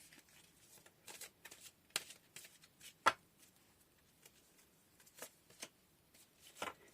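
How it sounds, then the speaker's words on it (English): Tarot cards being handled and pulled from a deck, a series of soft papery flicks and slides at irregular intervals, close and fairly quiet, with no talking. "I'm just going to pull one more card"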